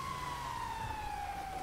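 Emergency sirens wail continuously in a GTA 5 police game scene, one steady tone slowly falling in pitch over a rumbling traffic background, with no talking.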